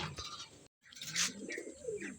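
Pigeons coo softly at close range, a short low murmuring call with a brief pause partway through.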